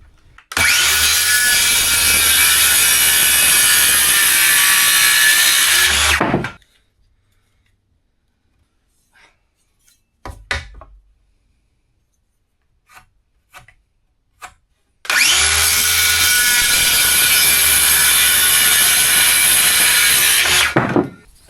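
A circular saw cutting wood for a woodstove concrete project: two loud sustained cuts close by, each several seconds long with whining blade spin-down, separated by quiet handling noises.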